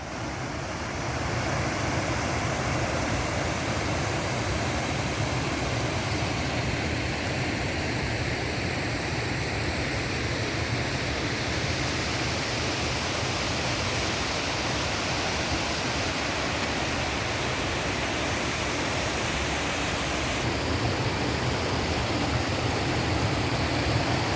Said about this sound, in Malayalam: ആ വെള്ളച്ചാട്ടത്തിൽ നിന്ന് വരുന്ന വെള്ളമാണ് ഇതൊരു ചെക്ക് ഡാമാണ്